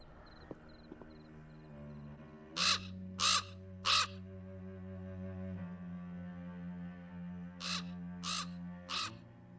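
A crow caws in a video game, in two bursts of three harsh, evenly spaced calls over a sustained musical tone and faint insect chirping.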